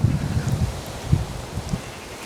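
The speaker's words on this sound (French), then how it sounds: "Ouh, un peu de vent." Outdoor wind gusting steadily, a low rumbling buffet with leafy rustling that swells and dips throughout, fairly close and fairly loud.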